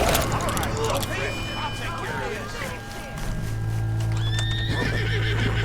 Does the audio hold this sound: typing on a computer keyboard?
no